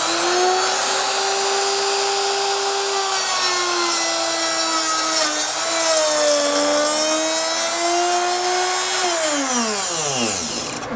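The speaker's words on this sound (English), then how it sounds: "as he starts to put the router into the jig" A router cuts a keyhole slot into wood, steered along a jig as a guide: a loud, steady high-pitched whine with layered harmonics that wavers slightly as it moves, then spins down in a falling pitch sweep near the end.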